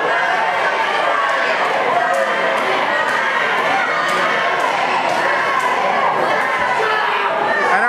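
Arena crowd at a wrestling event jeering a sore-loser wrestler after the match, a loud dense roar of many voices with scattered claps and thuds throughout.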